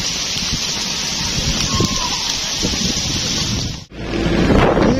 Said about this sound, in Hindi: बारिश जो है ना बढ़ गई है, ये देखें जी माशाल्लाह।